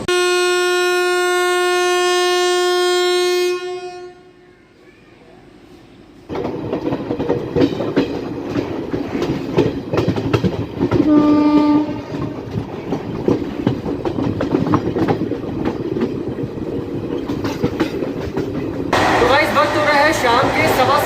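An Amritsar Jan Shatabdi train hauled by an aerodynamic WAP5 electric locomotive runs along the line, a steady loud rumble with rail clatter, preceded by a long sustained horn blast.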